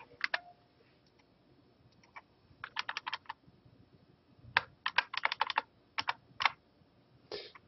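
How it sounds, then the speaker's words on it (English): Keystrokes on a computer keyboard come in short irregular bursts, with clusters of quick clicks separated by pauses, fairly close and moderately loud with no talking. "I'll just type this one out maybe."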